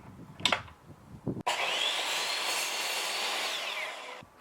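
Power saw cutting through wood for a simple pull-out couch build: a loud, steady whining cut lasting a few seconds, preceded by brief knocks and handling sounds.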